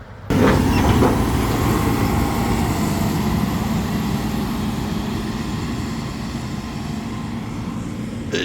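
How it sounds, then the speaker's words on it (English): A loud engine rumbles steadily close by, a heavy low drone of a tractor passing a cemetery that fades slightly toward the end. "To avoid being run over by that tractor, I had to get out of the way."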